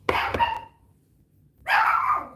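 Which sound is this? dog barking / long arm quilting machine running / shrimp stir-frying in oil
dog barking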